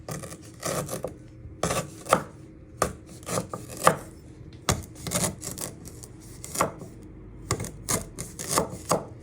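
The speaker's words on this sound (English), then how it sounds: "So next step, you're going to prep your ginger. You're just first going to slice it." A knife slicing fresh ginger into thin pieces on a cutting board, with close, crisp cuts in quick irregular bursts and short pauses between them, no talking.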